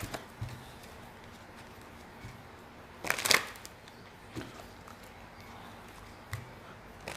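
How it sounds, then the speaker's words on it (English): Cards riffle in a single brisk burst midway, with a few softer taps and shuffles before and after against a quiet background. "I'll shuffle both decks so that we don't have any more interruptions"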